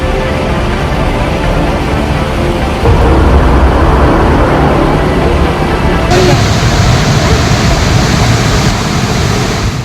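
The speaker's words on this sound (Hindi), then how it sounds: "दूसरी तरफ रफ्तार से पानी का सैलाब आतंक मचाते हुए बह रहा है" Floodwater from torrential monsoon rain surges through a parking lot lined with parked cars, a loud, steady roaring rush of water that swells partway through and continues without pause.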